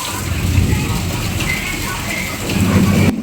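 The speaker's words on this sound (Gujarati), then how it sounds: "ધોધમાર વરસાદ પડી ગયો" Heavy rain pours in a dense, loud hiss throughout in Semla village, Gondal taluka, Gujarat, with a voice briefly speaking near the end.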